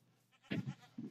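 A short, quavering goat bleat rings out close by in a modded video game, followed by a brief second bleat, faint and isolated against quiet.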